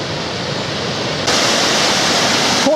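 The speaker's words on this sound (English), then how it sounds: "I can hear the weir in the background, which I'm about to cross." Water rushes over a weir on the River Kennet in mid-June, a dense, steady roar that swells louder halfway through as it draws nearer.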